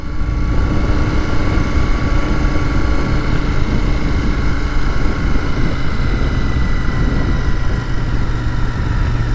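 A Royal Enfield Continental GT 650 motorcycle with a stage one tune runs its engine in a steady, loud, close rumble with a constant droning tone, holding without pause for the whole stretch.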